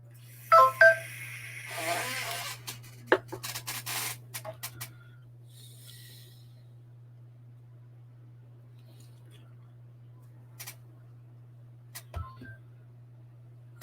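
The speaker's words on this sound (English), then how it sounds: "I love the sounds of my phone." Phone keypad tones, a quick run of short beeps near the start, then a few isolated beeps later, over a steady low electrical hum and near silence.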